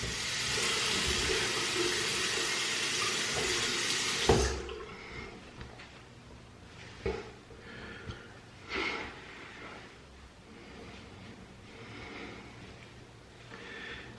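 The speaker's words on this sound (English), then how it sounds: "now I rag up and then I rinse" Water runs in a steady hiss from a tap while something is rinsed, then cuts off, leaving scattered clunks, splashes and handling noises.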